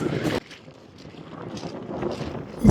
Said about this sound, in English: This day in particular was really windy